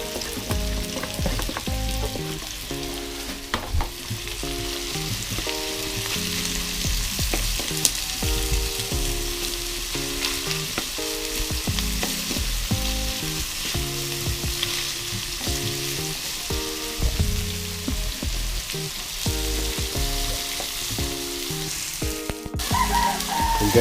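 Onions fry in a pan with a continuous close sizzle, with steady stirring and scraping and background music playing underneath.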